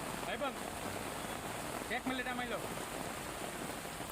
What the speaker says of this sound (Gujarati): ખંભાળિયા શહેરમાં ધોધમાર વરસાદ